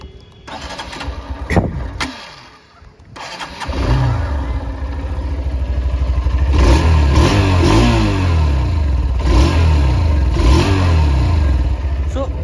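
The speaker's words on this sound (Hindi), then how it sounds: "ऐसा तो कुछ रहा है इसका एग्जॉस्ट नोट" A 2022 Hero Xtreme 160R motorcycle with dual discs starts up nearby, then idles and revs through its exhaust in several rising and falling bursts, loud and close, with a brief clatter and pause before the engine catches.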